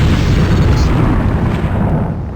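A grenade going off in Deus Ex during demolitions training: one loud, close, booming blast that fills the whole moment and rolls on without pause for over two seconds before slowly easing off.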